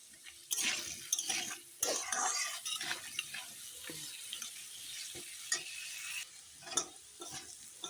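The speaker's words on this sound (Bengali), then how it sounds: "দেখো আলুগুলো কেমন লাল লাল করে ভাজা হয়ে গেছে" Potatoes fry in a pan with soft, intermittent sizzling bursts and occasional scraping and stirring against the metal. It is quiet and close.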